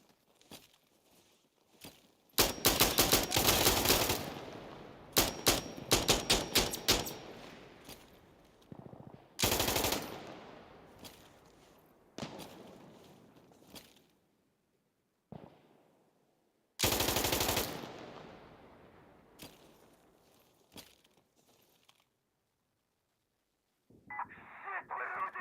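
Bursts of machine gun fire in Insurgency: Sandstorm, rounds striking concrete, coming in several rapid sharp volleys separated by quiet gaps, with faint radio-like chatter between them.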